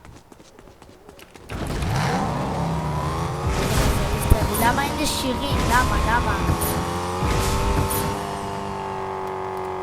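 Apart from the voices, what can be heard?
car engine in a battle royale video game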